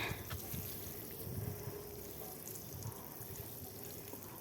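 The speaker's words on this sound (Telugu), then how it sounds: "ఇప్పుడు నీళ్లు పోస్తున్నానండి" Water poured by hand onto a newly planted noni fruit sapling at dusk, a soft continuous splashing and trickling into soil, faint and close, no talk over it.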